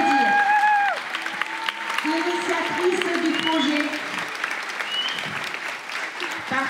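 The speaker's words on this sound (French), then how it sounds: "on peut l'applaudir." An audience at a school event applauds, a dense crowd clapping that swells and continues steadily under a voice speaking through a microphone.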